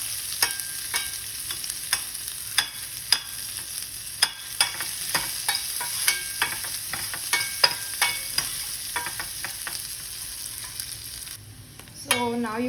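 Onions sautéing in a pan for upma, a low, continuous sizzle with frequent sharp taps and scrapes of a spatula stirring, close and moderately quiet, with a brief different sound at the very end.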